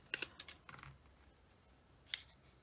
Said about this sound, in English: Alrighty, so let's trim a bit more off.